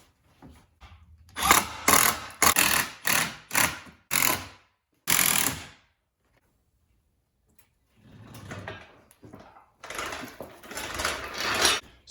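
Self-tapping screws driven into a carbon fiber rear spat on a Subaru STI, heard as a run of short, loud whirring bursts from a close power driver with pauses between them, followed by quieter scraping and handling.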